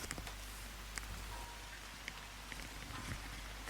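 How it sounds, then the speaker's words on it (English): Steady rain falls outside an open window in the Reed Valley during a close thunderstorm, a soft even hiss with scattered drips and taps, no voices. "Thunder is rolling across the Reed Valley here, very close by, and the rain is coming down."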